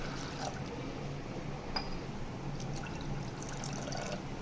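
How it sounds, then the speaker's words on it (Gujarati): Water pours steadily into a pressure cooker holding urad lentils, a close and continuous trickling, filling splash with a few light metallic knocks. "હવે તેમાં આપણે પાણી નાખીશું."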